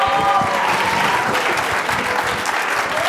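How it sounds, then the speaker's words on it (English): An audience at an entrepreneur pitch night applauds a presenter, loud, dense clapping that holds steady for about three seconds with a faint voice briefly at the start. "Let's give her a round of applause."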